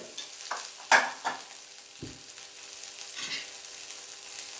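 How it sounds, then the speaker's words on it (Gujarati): Ginger-garlic paste with turmeric, red chili and coriander-cumin powder sautés in a pan for a potato and pea samosa filling, with a gentle sizzle under a few scraping stirs and spoon knocks. "આદુ લસણની પેસ્ટ બરાબર સાંતળી લેવાનું।"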